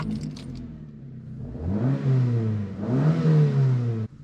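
A Ford Escort MK3 engine, running on a new coil pack, pulls under load while driving, rising in two strong acceleration sweeps with a short lift between them, near and loud with no talk.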